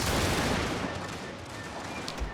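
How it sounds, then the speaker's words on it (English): Dense, continuous gunfire from massed guns in a Prussian strategy game battle, a rolling crackle of overlapping shots with a heavier thump at the end, loud and constant throughout. "most of it is drowned out by the sound of the guns"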